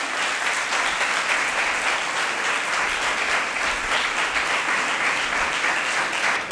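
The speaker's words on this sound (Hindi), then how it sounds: "तो हम सिस्टर रीना मंजूर के लिए भरपूर तालियां बजाएंगे।" A congregation applauds at a thanksgiving mass in St. Michael's Parish, Godhra Camp, with many hands clapping in a dense, steady and fairly loud stream that holds evenly throughout, free of speech.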